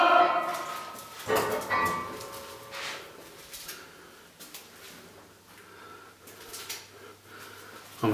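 A dog makes snorting, whimpering sounds inside a horror video game, faint and intermittent over a quiet, murky background.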